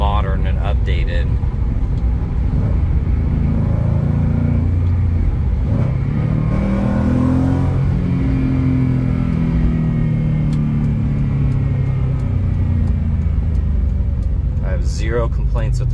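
A 2024 Ford Mustang Revology restomod driving, its engine a steady low rumble with a rising note partway through, loud and continuous cabin sound.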